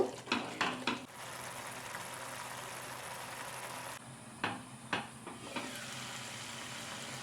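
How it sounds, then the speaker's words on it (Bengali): Spice masala for tofu sautés over a low gas flame with a gentle, continuous sizzle, broken by a few clanks of a spoon stirring against the pan near the start and toward the end. "গ্যাসের ফ্লেমটা লো করে নিয়ে আমি পাঁচ সাত মিনিট কষিয়ে নেব"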